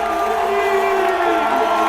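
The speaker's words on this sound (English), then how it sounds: "Fatevi sentire, applaudite, Vincenzo Nibali!" A dense crowd at the Giro d'Italia stage finish in Verona cheers and whoops loudly and continuously, a sustained roar of many voices with no clear individual speech.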